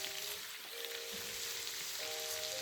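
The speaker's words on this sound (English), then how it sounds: "Going to give it a stir." Cabbage and onion sizzle steadily in bacon grease as they are stirred in a pan, a continuous close frying hiss with faint scraping and light background musical tones.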